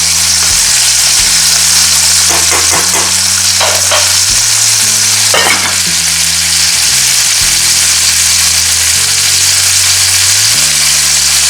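A loud, steady electric hand mixer whirs continuously, its motor pitch shifting up and down as it works through thick boiled potatoes, mashing them, with occasional clatter.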